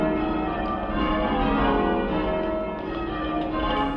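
Church tower bells rung full circle by the bell ringers of North Shields, a dense, continuous wash of overlapping bell strikes with rich ringing overtones, loud and steady throughout.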